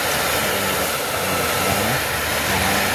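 A repaired hair blower runs continuously at close range, a loud, steady rushing whir of motor and airflow with no pauses and no voices.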